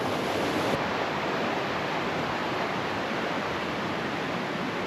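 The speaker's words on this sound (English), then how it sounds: "Having to cross a fairly well moving creek right here." A fast-flowing creek in Havasupai canyon rushes steadily with a broad, hissing wash of water, loud and constant throughout with no voices.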